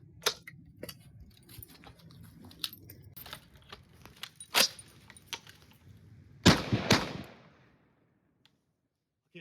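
A Pausa BPA12 bullpup shotgun fires shells in a few sharp, loud reports, with the biggest blast near the end ringing out before silence, amid scattered clicks and handling noise.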